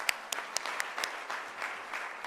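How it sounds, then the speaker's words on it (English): Conference audience applauding at a closing session, sparse individual claps with a few louder sharp ones, fairly quiet and brief with a faint background of other hands. "So I also ask an applause for her."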